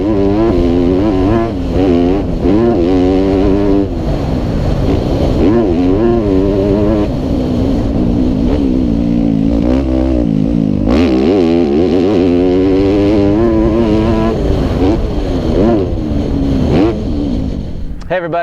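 Modified Yamaha dirt bikes, a YZ250F and a Cylinder Works big-bore YZ270F, run loud and close with rising and falling revs at a motocross raceway, the engine buzz steady throughout with someone talking over it.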